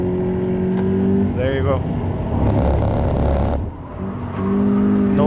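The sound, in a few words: race car driving hard on Cremona Circuit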